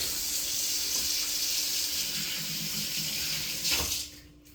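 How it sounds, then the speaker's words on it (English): Water from a kitchen tap runs steadily as hands are rinsed underneath, a close, even hiss that briefly splashes before the flow is shut off. "I'm going to rinse my hands off real quick."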